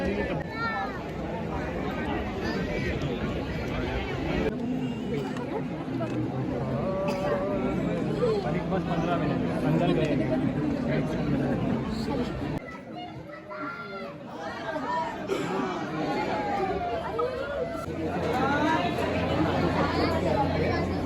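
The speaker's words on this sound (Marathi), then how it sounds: "फुल गर्दी आहे, फुल गर्दी." Dense chatter of a packed crowd queuing at a temple in Ujjain, many voices including children overlapping continuously, close and loud, with a brief dip midway.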